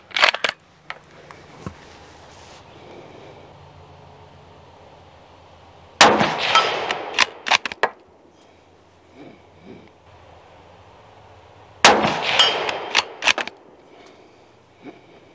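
Three bursts of sharp, loud rifle reports from a Taurus Expedition .308 fired at a range, each a cluster of cracks and clatter spaced about six seconds apart, separated by quiet stretches.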